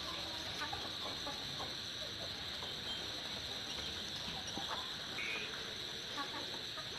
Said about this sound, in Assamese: আজি মই আপোনালোকক দেখুৱাম আৰায়াৰ লেয়াৰ মুৰ্গী।